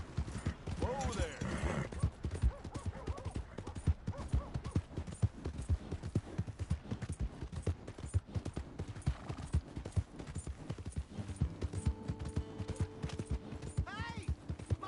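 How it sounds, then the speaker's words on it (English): Horse hooves clip-clop steadily in Red Dead Redemption 2, a continuous quick rhythm of hoofbeats with a whinny near the start and voices talking over it. "Hey! My horse!"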